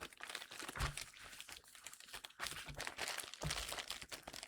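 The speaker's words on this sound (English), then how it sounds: "Yeah, I think I can just rip it open." Plastic and paper pin packaging is torn and crinkled open by hand in close, faint, continuous ripping and crackling.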